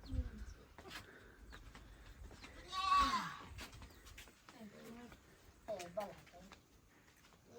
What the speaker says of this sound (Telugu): వాళ్ళ మేకలు.